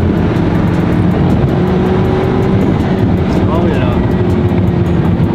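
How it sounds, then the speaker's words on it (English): A supercharged V8 in a 2024 Ford F-150 4x4 roars loudly and close with a deep, throaty drone, while people talk and exclaim over the engine noise. "you hear a lot of the throaty V8"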